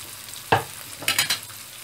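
Onion and garlic sautéing in a pan for pepper-steak sauce, heard as a sharp stirring scrape followed by a few quick spatula strokes over a faint sizzle, close by, with no speech.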